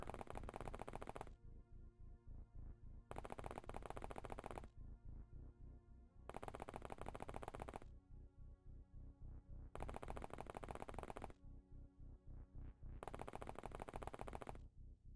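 Gunfire in the turn-based strategy game OpenXcom, rapid repeated shots in five dense bursts about two seconds apart, separated by brief quieter gaps with lingering echoes, loud and steady with no talking.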